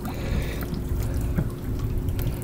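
Water drips and trickles from a leak, a faint irregular patter of drips over a constant background hiss, with no voices.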